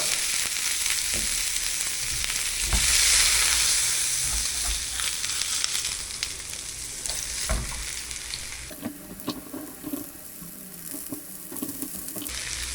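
Carrots sizzle and fry in a pan as part of a vegetable side for pork shank, a steady crackling hiss with occasional stirring scrapes, louder early on and easing slightly toward the end.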